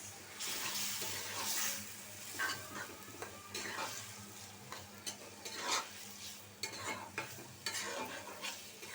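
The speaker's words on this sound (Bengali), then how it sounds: "মশলাটা আমার কষানো হয়ে গেছে মাছগুলা দিয়ে দিই" Prawns are dropped into cooked-down spice paste for a curry with ash gourd and stirred, giving soft sizzling with scraping and clattering bursts that rise and fall, plus a faint watery trickle in the background; no one speaks.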